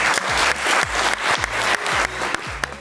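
Audience applause from a theatre crowd after a youth stage performance at a youth house in Shirvan, steady clapping with brief swells throughout, fairly close and loud.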